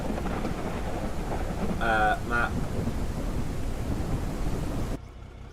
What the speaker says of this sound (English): It's a lot louder than expected. Oh, this is a thunderstorm.